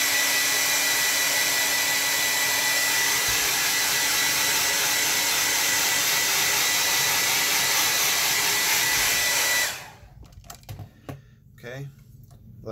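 A hair dryer blows steadily and loudly for about ten seconds to dry wet watercolor paint on a landscape painting, then cuts off abruptly, leaving near silence with faint handling noises.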